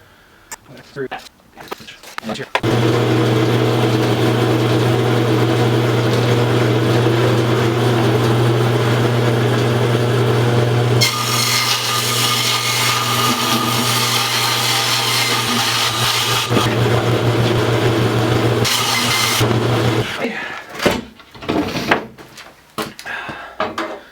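A power saw cuts through a sheet of plywood in a garage workshop, a loud sustained whining drone lasting about seventeen seconds with a shift in pitch partway through, bracketed by brief handling knocks.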